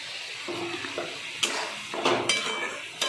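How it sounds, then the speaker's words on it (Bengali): Chopped chili and spices sautéing in hot oil for a magur catfish curry, a steady soft sizzle with a few clinks and scrapes of a stirring spoon against the pan. "আমি কষাবো।"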